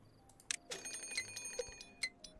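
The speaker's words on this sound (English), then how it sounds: "Drought approaching." Timberborn's drought warning plays as a short, faint chime with several light bell-like pings and a lingering tone, heard alone with no talking.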